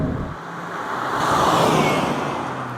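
Steady broadband road and engine roar fills the cabin of an Autozam AZ-1 small sports car, swelling slightly as the car accelerates, with no talking.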